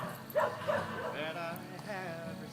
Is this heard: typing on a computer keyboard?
no